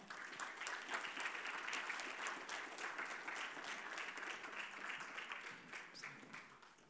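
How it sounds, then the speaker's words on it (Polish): Faint, distant audience applause at a history competition award ceremony, a steady wash of many hands clapping that slowly tapers off. "Ogromne brawa."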